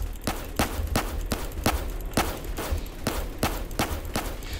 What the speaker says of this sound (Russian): Ну, я сейчас с него стреляю антиэйром